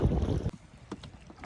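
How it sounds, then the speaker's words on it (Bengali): Light wind and small waves wash around a boat heading toward the Matla river on a fishing trip. A loud gust of wind fills the first half-second, then quieter water remains with a few faint splashes. "বেশ কিন্তু হালকা হালকা হাওয়া ঢেউ হচ্ছে"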